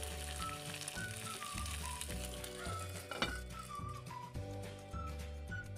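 Boiled peas cooking in a covered pan, giving a steady gentle sizzle and simmer with faint whistling tones from steam, close and quiet with no talking.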